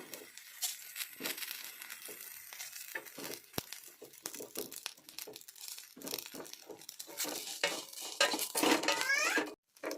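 Curry leaves roast in a pan, dry crackling and crinkling mixed with busy clinks and scrapes of a spatula against metal, growing denser and louder toward the end.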